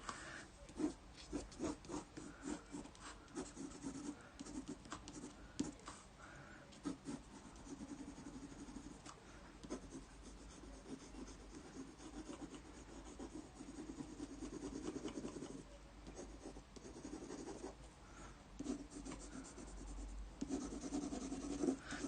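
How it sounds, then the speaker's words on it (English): A pencil scratches and scribbles on paper in quick, uneven strokes, faint and close, continuing steadily with brief pauses. "can you hear the lovely scribbly sound that pencils make?"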